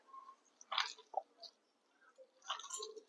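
Onion and gram flour mixture kneaded by hand without water, giving soft, sticky squelching and squishing sounds in faint, irregular bursts, close by in a quiet room.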